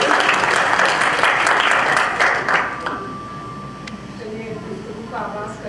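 Applause at a Hindi-Urdu literary gathering, dense and steady for about two and a half seconds, then fading as a voice speaks over the dying claps.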